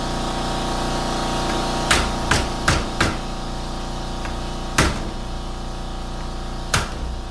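A hammer driving a screwdriver on a GMC gearbox, a handful of sharp metallic strikes, a quick cluster of three or four followed by two more spaced out, over a steady mechanical hum.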